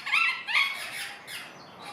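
Exotic birds such as parrots and cockatoos call at a zoo, with two sharp, close squawks in quick succession followed by fainter trailing calls.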